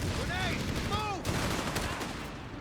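Battle in the strategy video game Company of Heroes 3, with dense gunfire and explosions from grenades throughout, plus faint voice-like chirps from in-game units.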